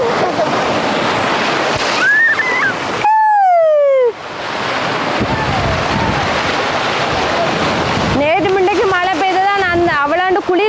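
Water waves wash and splash in a steady broadband rush, with a voice talking over it and a few high whistling chirps.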